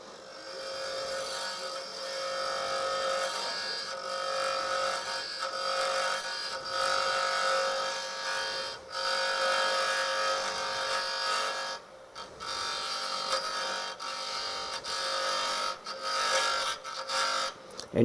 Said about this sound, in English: I'm going to do a little bit of hollowing with this dental tool